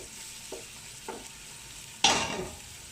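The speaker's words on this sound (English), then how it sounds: "Then then I'm going to let it fry." Finely chopped onions fry in a pan for okro soup, a soft steady sizzle with a couple of light stirring scrapes before a louder burst of hissing as the pan is stirred near the end.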